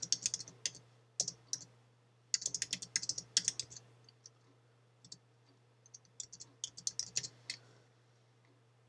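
Someone types on a computer keyboard, with close, crisp key clicks in bursts and short pauses over a faint steady hum.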